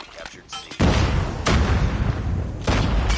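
Sniper rifle shots ring out in a video game, three sharp cracks spaced about a second apart, each followed by a short rumbling tail, with quieter game noise between them.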